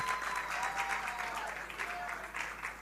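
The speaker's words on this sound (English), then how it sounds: "please give them a round of applause" Audience applause at a church singles' night event, a steady wash of many hands clapping at moderate distance, with faint voices and a thin tone running underneath.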